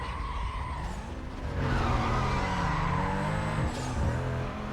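A yellow Porsche Cayman S racing in Need for Speed: Most Wanted (2005, PS2), its engine revving and shifting pitch while tires squeal in a skid, close and steady throughout.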